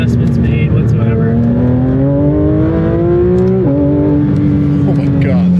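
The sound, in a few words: Porsche 911 GT3 RS accelerating on a race track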